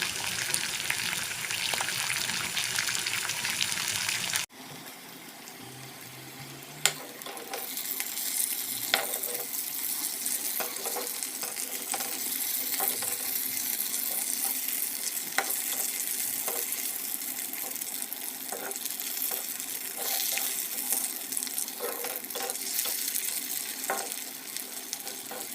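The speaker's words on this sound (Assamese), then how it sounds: "এতিয়া বাকী থকা আলু ভাজিখিনিও মই এনেদৰে ভাজি ল'ম।" Potatoes frying in a pan, a loud hiss at first, then a brief quieter lull before a steady bubbling sizzle with scattered crackles and pops that carries on to the end.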